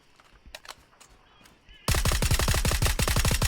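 Automatic gunfire in the video game PUBG, a sudden loud, dense burst of rapid shots that follows faint scattered sounds and continues without pause to the end.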